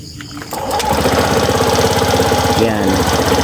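Suzuki Burgman Street scooter engine catching at about half a second and settling into a steady, loud, close rattling idle with a rapid even chug that continues to the end.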